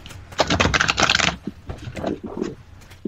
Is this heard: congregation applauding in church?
no